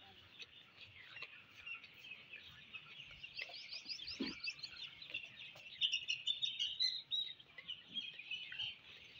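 Chicks of desi chicken breeds chirp nonstop, a dense chorus of high, thin peeps that grows a little louder and busier toward the end, heard close up with no voices.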